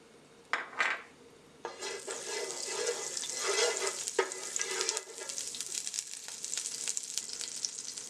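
Canola oil and a little butter sizzle in a hot pan, starting with a few brief crackles and then settling into a steady, fairly loud frying hiss with small pops, close by and with no talking.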